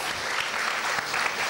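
An audience at a kindergarten graduation and award day gives a burst of loud, dense applause, with many hands clapping close together.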